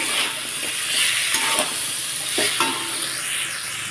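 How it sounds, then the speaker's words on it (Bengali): Vegetables for a drumstick curry fry in a pan with a steady, bright sizzle, broken by a few scraping stirs of a spatula; no voices. "হালকা স্টিমে আমি লাল লাল করে ভেজে নিচ্ছি"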